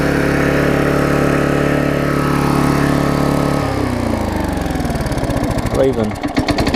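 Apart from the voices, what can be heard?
Vulcan 18-inch lawn mower engine running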